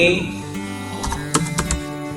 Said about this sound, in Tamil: இன்ஃபோடெக் அப்படின்னு நான் டைப் பண்ணுறேன்.